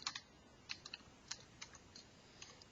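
Computer keyboard typing with the tab key pressed between words: sparse, quiet clicks in small bursts, each keystroke a short tap, with no talking.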